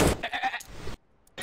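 Person in a Counter-Strike match on Mirage imitating a sheep with a short bleating voice, two quick nasal bleats followed by a pause and another burst starting.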